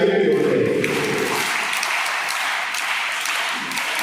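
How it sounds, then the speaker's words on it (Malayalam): Church congregation clapping together in a loud burst of applause that fades gradually to a lighter patter toward the end. "നല്ലൊരു കയ്യടി കൊടുക്കേ."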